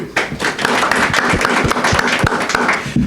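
Applause from an audience at a webinar: steady, fairly loud clapping from many hands, continuous and dense for about three seconds with no pauses.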